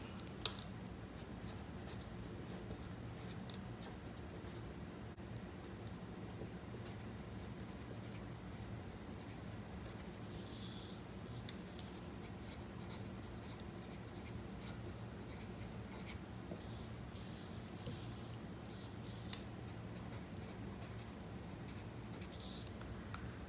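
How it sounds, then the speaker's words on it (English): A pen writes in a paper planner, a quiet, steady scratching that carries on alone for the whole stretch with no talk over it. "So let me write some things that I need to do."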